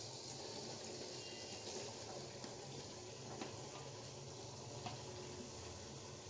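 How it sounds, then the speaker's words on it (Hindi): Pumpkin pieces tipped into hot masala in a kadhai set off a steady, close sizzle and frying hiss that holds evenly throughout, with faint stirring scrapes and no talk. "अब यहाँ पे मैं कद्दू डालूँगी।"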